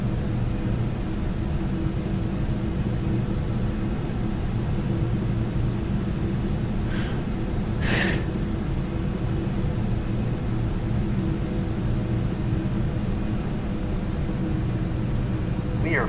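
A Learjet's engines drone steadily in flight, a constant loud broadband roar that fills the cabin, with a few brief faint radio or cockpit beeps over it.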